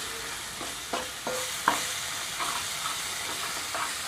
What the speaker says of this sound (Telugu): అల్లం పేస్ట్ ఇవన్నీ యాడ్ చేసి వీటిని లో ఫ్లేమ్లో ఒక 2 నిమిషాల పాటు ఫ్రై చేసుకోవాలి